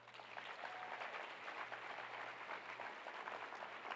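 Audience applause at a gun responsibility luncheon: a steady, dense wash of clapping from a large crowd, sustained evenly throughout over a low constant hum.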